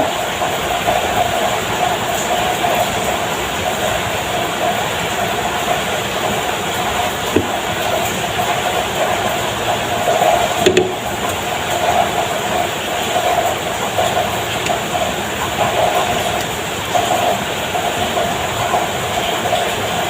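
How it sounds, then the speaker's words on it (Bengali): Rain falls outside a balcony as a steady, even hiss that holds unbroken throughout, with one or two faint knocks and no talking. "আর বাইরে বৃষ্টি হচ্ছে"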